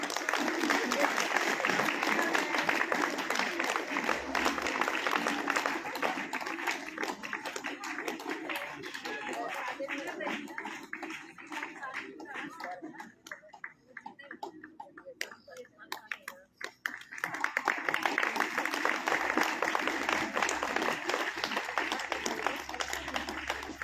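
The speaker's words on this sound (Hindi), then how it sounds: "ताली थोड़ी बजाओ।" Audience at a stage event clapping steadily, a dense patter of many hands that thins and drops in the middle before swelling again, with a voice talking over it.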